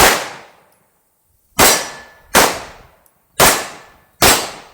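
Four sharp, loud pistol shots from a Sig P211 GTO fitted with a compensator, fired one-handed, spaced irregularly with quick decays and no talking.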